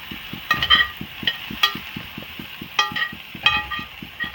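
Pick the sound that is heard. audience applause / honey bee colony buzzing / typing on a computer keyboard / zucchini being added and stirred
zucchini being added and stirred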